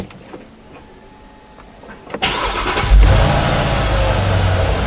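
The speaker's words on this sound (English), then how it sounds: "as you can hear, the engine is running" A Mercedes GL450 engine cranks and catches at about two seconds after an auxiliary battery replacement, then settles into a steady, loud running hum after a quiet start.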